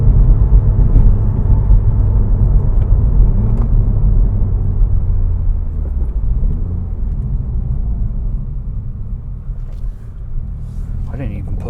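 A 2016 Subaru WRX with a turbocharged engine accelerates hard from inside the cabin, its deep engine rumble and road noise loud and steady before easing off. The driver talks over it.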